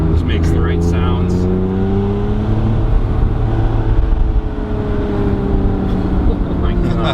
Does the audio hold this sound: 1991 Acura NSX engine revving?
yes